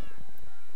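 A cat meowing in the Minecraft-based video game Tekkit, a single short, close, clear meow standing alone.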